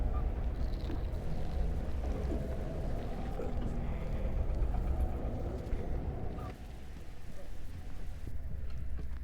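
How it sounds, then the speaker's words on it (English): A demonic ambient sound from the horror video game Song of Horror, a low, steady rumbling drone with hissing texture that holds continuously and dips slightly near the end. "Alright, so that's the demonic sound."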